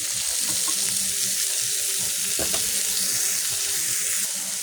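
Boiled mushrooms go into a frying spice paste, giving a continuous broad sizzle with a short clatter of utensils partway through.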